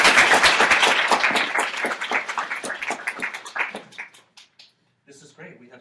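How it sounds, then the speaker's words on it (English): A lecture-hall audience at UC Irvine breaks into a round of applause, dense clapping that starts full and loud, then thins out and fades to a few scattered claps, with a brief voice near the end. "But first, a round of applause."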